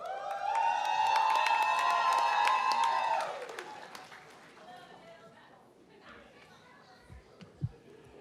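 Applause and cheering from a crowd at a Jersey College graduation ceremony in Ft. Lauderdale, loud with sustained tonal whoops for about three seconds, then fading to quiet room murmur.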